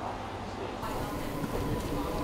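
A Hokkaido train ride toward Chitose Station fills the clip with a steady rumbling carriage roar that grows brighter and louder partway through, with faint speech in the background.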